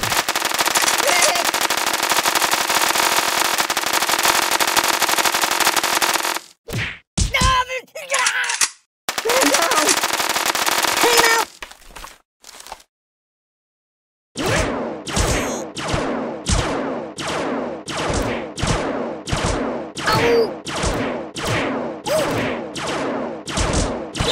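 Gunfire at a shooting range in the Kick the Buddy mobile game: a long dense burst of automatic fire, short choppy bursts after a gap, then a loud rapid string of individual shots with groaning voice sounds.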